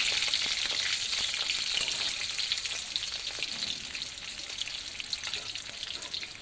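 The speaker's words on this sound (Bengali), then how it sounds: "আমি এই যে এইগুলো এই তেলের মধ্যে এইগুলো ছেড়েছি, এবার একটা একটা করে উল্টে দিচ্ছি।" Snacks frying in hot oil in a pan as they are turned one by one, a dense, loud, continuous sizzle with faint stirring clatter throughout.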